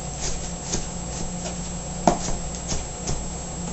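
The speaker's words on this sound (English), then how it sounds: "We're just going to chop those up" Dried apricots roughly chopped with a knife, a series of soft, irregular knife taps on a board, fairly quiet and close, with one sharper thud midway.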